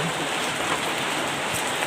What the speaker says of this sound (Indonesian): Ini hujan tidak ada reda-redanya.